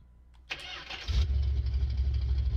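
Car engine in Farming Simulator, a vehicle modeled after the General Lee, cranking briefly with a starter whir before catching and settling into a low, rumbling idle; fairly quiet, with no talking.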